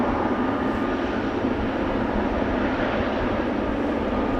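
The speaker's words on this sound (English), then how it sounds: "Another A350 coming this way," Steady broadband engine roar of a China Airlines Airbus A350 airliner at Amsterdam Schiphol, heard from beside the runway as a continuous loud rumble and whoosh that holds level throughout with no voices.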